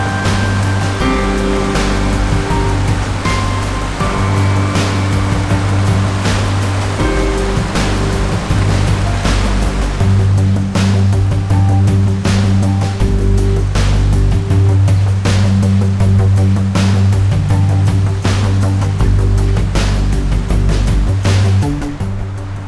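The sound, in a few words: rushing high creek water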